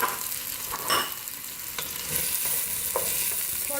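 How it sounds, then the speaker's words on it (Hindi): Onion and potato fry in hot oil, a loud, close sizzle broken by a few sharp spatula scrapes and stirs across a few seconds. "इसमें हम प्याज शामिल करेंगे और साथ में हम आलू भी शामिल कर देंगे इसके अंदर।"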